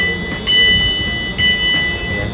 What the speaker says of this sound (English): Now I'm going to be boarding the train now